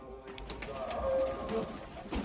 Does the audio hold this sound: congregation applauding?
no